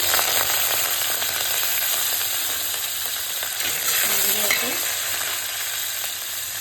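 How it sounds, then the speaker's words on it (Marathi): Asafoetida, curry leaves and garlic crackle in a spoonful of hot oil in a pot, a dense, loud, continuous sizzle that eases slightly toward the end, with no voices. "1 चमचा तेल टाकायचं आपल्याला, थोडेसे हिंग, कढीपत्ता आणि लसूण"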